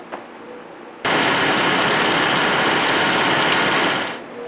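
A car engine runs at idle during a radiator flush, kicking in abruptly to a loud, steady, broadband whirring hum for about three seconds before cutting off, with quiet background before and after.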